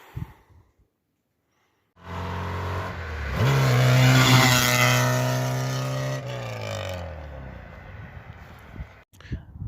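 Polski Fiat 125p on a test drive after brake bleeding and bearing replacement: the engine starts and revs up loudly, its pitch climbing steadily, holds a strong drone, then eases off and cuts out.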